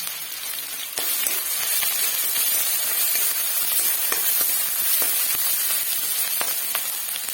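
Onion, ginger and garlic fry in a hot pan, giving a steady, dense sizzle with a sharp rise at the start and scattered crackles and pops throughout.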